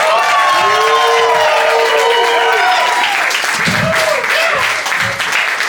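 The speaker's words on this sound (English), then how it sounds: "keep the applause going for Volar" A comedy roast audience applauds and cheers loudly, a thick, continuous roar of clapping with whoops and shouting voices over it that fades slightly near the end.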